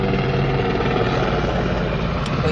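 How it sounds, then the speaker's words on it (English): A helicopter flies overhead near a house, its loud, steady rotor thump and engine roar filling the scene continuously with no one speaking. "wait for the helicopter."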